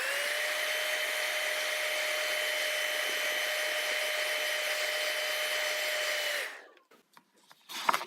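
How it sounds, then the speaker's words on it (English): A hairdryer blows steadily at close range with a constant whir, heating crayon on paper, then shuts off and a few small clicks and handling noises follow. "I'm just going to heat up the area with my hairdryer."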